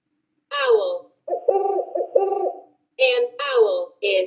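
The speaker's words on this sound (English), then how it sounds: "An owl is a bird with large eyes and strong claws that is active at night." An owl hoots in several short, loud, clear calls in quick groups, close up and alone, with brief silences between them.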